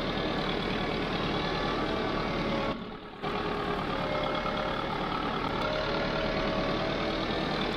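A Sonalika 60Di tractor engine in Farming Simulator 22 strains steadily while climbing a slope with a 70-quintal load, a continuous mid-pitched engine drone that drops out for a brief moment before resuming, with no talk.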